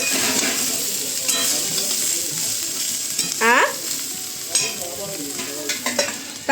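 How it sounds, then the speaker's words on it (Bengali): Oil sizzles steadily as potatoes fry in a pan, with occasional scraping and stirring sounds close by. "আলুগুলো বেশ সুন্দর ভাজা হয়ে গেছে তেলের মধ্যে"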